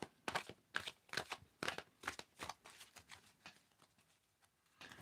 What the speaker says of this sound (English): I'm going to shuffle this 3 times.